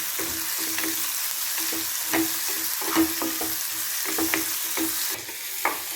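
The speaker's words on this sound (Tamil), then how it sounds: "வதங்கிட்டு இன்னும் ஒரு ஒரு நிமிஷம் வதங்கிச்சுனாக்கா எடுத்து நம்ம சாம்பாரில் சேர்த்து வைக்கணும்" Onions and other ingredients for Tirunelveli idi sambar sauté in a pan, a steady sizzle broken by regular scraping stirs and soft clinks of the spoon, close and alone.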